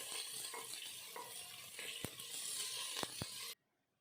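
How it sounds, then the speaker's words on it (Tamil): Steady hiss and crackle of onions sautéing in a pan, with a few sharp clinks of a utensil stirring, then it cuts off abruptly. "வெங்காயம் ஆட் பண்ணதுக்கப்புறம் நல்லா வதக்கிக்கலாம்"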